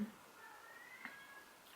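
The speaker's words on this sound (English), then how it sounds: "my cat is meowing." A cat meows once, faint and drawn-out, against a quiet indoor background, with a short rising call near the middle of the sound.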